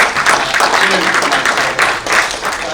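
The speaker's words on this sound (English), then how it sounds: "Let's give them a loud round of applause." Audience applause fills a conference hall on sustainable waste and recycling, a dense steady wash of many hands with voices mixed in.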